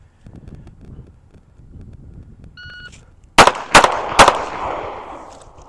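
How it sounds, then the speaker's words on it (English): A Ruger LCP II pistol fires three rapid, loud shots at a target box, following a short electronic beep, with light wind noise in the background. "Let's see what we can do with the LCP. All right, only difference now is now I'm going to shoot for the box on the right."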